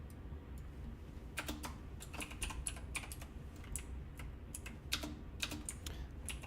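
Rapid computer keyboard typing, a steady patter of light clicking keystrokes in uneven bursts, fairly close and quiet, with no voices.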